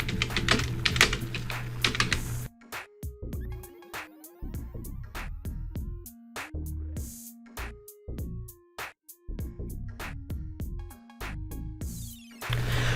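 Keystrokes on a computer keyboard while HTML is written, fast irregular clicks in quick runs for about thirteen seconds, close and clear, with a brief buzzy hum at the start and no talking.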